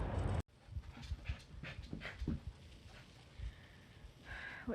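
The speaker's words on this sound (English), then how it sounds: "What you can hear in the background is my dog losing his mind because I just washed him" A dog whines and pants restlessly after a bath, with short bursts of high whimpers and rapid breathy pants close by, continuing unevenly throughout.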